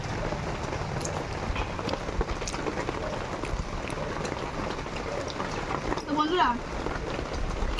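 Steady rain falling on a rainy day, a dense continuous patter of drops on surfaces with faint voices in the background.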